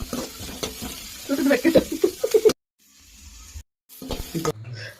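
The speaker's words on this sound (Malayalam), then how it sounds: "എണ്ണ ഒഴിച്ച് ഇഞ്ചി സവാള കറിവേപ്പില എന്നിവയെല്ലാം ഇട്ട് നന്നായിട്ട് മൂപ്പിച്ചെടുക്കണം" Sizzling and stirring in a hot pan as ginger, onion and curry leaves sauté in oil, with scraping bursts that break off into brief silences, then resume with a low rumble.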